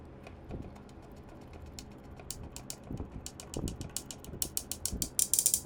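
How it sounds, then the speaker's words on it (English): Final screw being driven into a Room Essentials mixed-material nightstand during assembly, heard as a run of quiet, closely repeated ratcheting clicks that grow louder and quicker toward the end, with no talking. "Let's attach our final screw."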